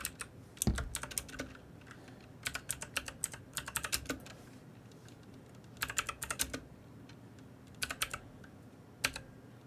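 Someone types on a computer keyboard in bursts of rapid clicking keystrokes, close and fairly quiet, separated by short pauses and ending in a single louder tap.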